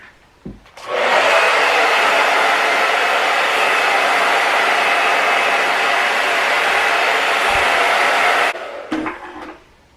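A hair dryer drying curly hair starts with a click, then blows as a loud, steady broadband roar for about eight seconds before cutting off. A few handling knocks follow.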